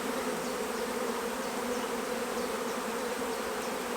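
Honey bees buzzing at a hive during queen rearing with nurse bees, a dense, steady drone of many wings held at an even level throughout, close and unbroken, with no voices.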